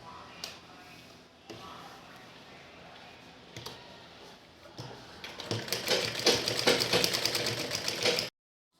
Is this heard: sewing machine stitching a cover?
yes